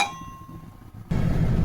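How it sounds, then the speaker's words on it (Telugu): A metal lid goes onto a cooking pot of country-chicken curry, a faint ringing metallic clink fading out, then an abrupt shift to a louder, steady simmering rumble close by. "ఇప్పుడు అయితే మూత పెట్టేస్తున్నాను."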